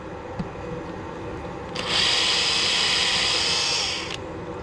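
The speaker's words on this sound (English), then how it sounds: "we only need to drill that big" Power drill boring a hole for a threaded nut insert, a steady high whine starting partway in and holding for about two seconds before cutting off, close and fairly loud.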